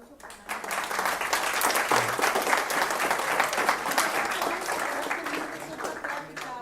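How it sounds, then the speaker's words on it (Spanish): An audience claps loudly and steadily for several seconds at a business talk on trademark and patent registration, with a dense crowd texture throughout. "Un aplauso para"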